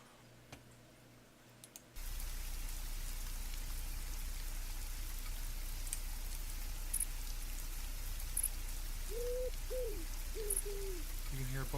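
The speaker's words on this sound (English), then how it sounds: "you can hear both the crickets and the pigeons." A dense, steady hiss of crickets fills the air in a video game ambience, joined near the end by several soft pigeon coos.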